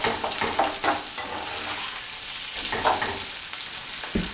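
Oil frying for a Scandinavian biksemad hash of leftovers, a steady crackling sizzle with occasional louder pops and stirring scrapes, close and continuous.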